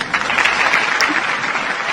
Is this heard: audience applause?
yes